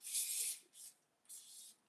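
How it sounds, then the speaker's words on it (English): Close hairspray is sprayed onto a wig in three quick hissing bursts, the first longest, separated by short quiet gaps. "So I'll try to spray this."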